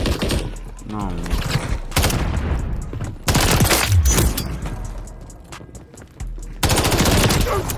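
Automatic gunfire rattles in rapid bursts in the video game Call of Duty Modern Warfare 3, loud and continuous across the clip, with players talking over the shooting.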